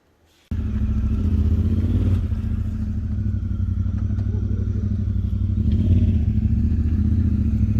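A Honda Talon side-by-side engine starts up abruptly and runs at close range, a loud steady rumbling idle with slight revving and some mechanical clatter.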